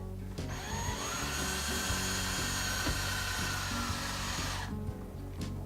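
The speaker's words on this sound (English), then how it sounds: "Turn on your drill." A cordless drill spinning braided wire whirs steadily at close range for several seconds, then winds down near the end over a low background hum.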